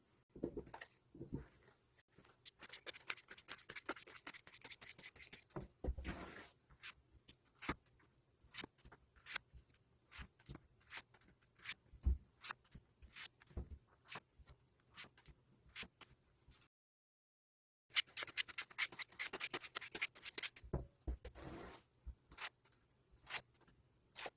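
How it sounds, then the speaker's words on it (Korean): Tarot cards shuffled by hand in a series of quick, crisp riffling clicks and slaps that fall in bursts at close range, with a brief silent gap near the end. "그럼 바로 카드 셔플 진행해 보도록 하겠습니다."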